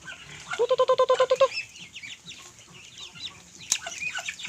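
A native duck gives a quick run of about ten quacks while feeding, then softer rustling and faint bird calls follow.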